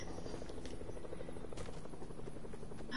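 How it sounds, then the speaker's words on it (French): A helicopter in a video game drones steadily at a distance with a continuous rotor buzz, fairly faint and alone with no speech. "Oh, il y a un hélicoptère!"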